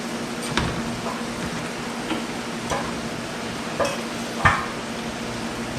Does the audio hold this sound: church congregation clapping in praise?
no